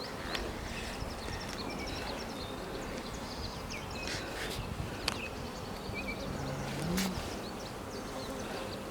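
Honeybees buzz steadily around an open hive during an inspection, a dense close hum with individual bees darting past the microphone, under a few faint knocks and brief handling noises.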